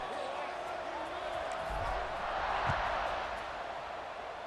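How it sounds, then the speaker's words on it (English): Stadium crowd buzzing steadily in the EA Sports College Football 26 video game during a college game between Vanderbilt and Auburn, a dense broad roar filling the whole stretch under a play-by-play commentator's voice. "this crowd is buzzing after that last score"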